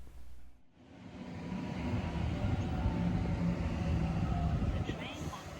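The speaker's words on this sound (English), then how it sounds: "Coming into platform 1 now is a Series 2 Waratah on a service to the city." A Sydney Series 2 Waratah electric train pulls into platform 1 at a suburban station, a loud sustained rumble and rolling wheel noise building after a brief lull and holding steady, with faint squeal near the end.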